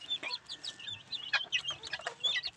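Month-old chickens cluck and chirp in a busy, overlapping chorus while being fed, close and fairly loud, with bursts of calls throughout and no talking.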